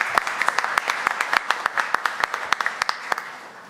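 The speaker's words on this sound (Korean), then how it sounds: "큰 박수 부탁드립니다." Applause from the audience at a Korean policy forum on small-business finance, a sustained crowd clapping with sharp individual claps standing out above the steady patter throughout.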